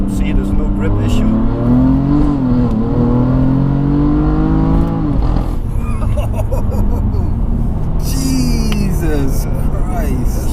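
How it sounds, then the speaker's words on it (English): A BMW F80 M3 revs hard at full throttle in second gear, its engine note climbing in loud sweeping rises, dropping briefly, then rising again, with traction control off, close and dominant throughout. "if we shift back a bit, go maybe in second gear, if we floor it here"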